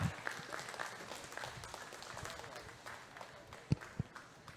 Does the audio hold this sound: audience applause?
yes